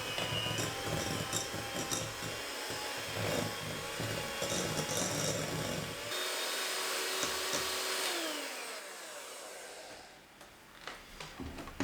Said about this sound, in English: I'm just going to use these kind of hand mixers.